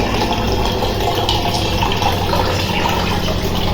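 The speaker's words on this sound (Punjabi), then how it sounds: "ਇੱਥੇ ਮਮਾ ਭਰ ਰਿਹਾ ਪਾਣੀ" Filtered water runs in a steady, continuous stream as it fills a clay matka pot at home, close and fairly loud with no talking.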